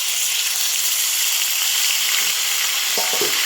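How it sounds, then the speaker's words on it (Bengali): Ginger and cumin paste sizzles loudly in a kadai of mustard oil, a strong continuous hiss with a few stirring scrapes near the end. "এরপর দিয়ে দেব আদা আর জিরে বাটা।"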